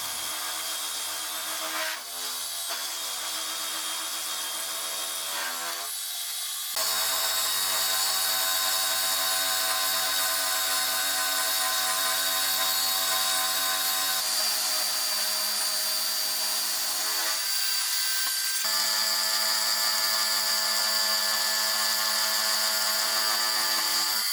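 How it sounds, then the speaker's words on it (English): A carbide end mill cuts a slot down a metal part for the rocker assembly of a homemade surface gauge, giving a steady, loud high-pitched machining whine with a shift in tone partway through and no talking. "I'll cut a slot down the part for the rocker assembly. I'm going to use a carbide cutter"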